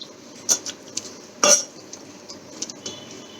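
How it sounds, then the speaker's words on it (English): A ladle presses masala into curry in a cooking pot, giving a few sharp metallic clinks and scrapes against the pot, the loudest near the middle, with quiet gaps between. "with the back side of ladle. You just press it so that all the masalas gets into the liquid."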